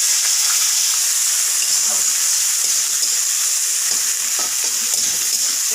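Onion and tomato frying gently in a pan give off a continuous hissing sizzle, with faint stirring and occasional soft pops underneath.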